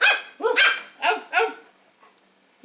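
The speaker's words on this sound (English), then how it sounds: "are you barking?" Dog named Maggie barking four times in a quick, loud series close by, with short gaps between barks, then quiet.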